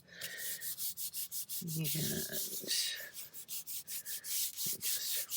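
Matte medium rubbed by hand onto paper laid over a black-painted gel press, a steady rhythmic swishing friction repeating close up, with a short burst of talking partway through.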